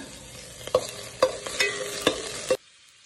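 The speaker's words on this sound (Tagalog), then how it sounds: "naglagay tayo ng kunting oil para ating igisa ang mga panakot" Aromatics sautéing in a little oil in a pan, a quiet sizzle punctuated by five distinct spoon knocks against the pan, cutting off abruptly near the end.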